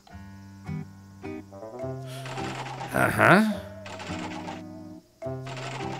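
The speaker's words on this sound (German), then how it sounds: "Andererseits können wir noch zwei Münzen reinschmeißen und bekommen dafür vielleicht auch Joker." Coins are fed into the crank machine in the Yo-kai Watch 2 video game, making a bright, jingling, clattering burst in the middle over looping game music, with a short voice.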